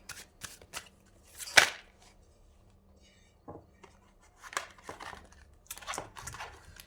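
New, slippery tarot cards are handled and shuffled up close in soft, intermittent riffling bursts with brief quiet gaps and no talk.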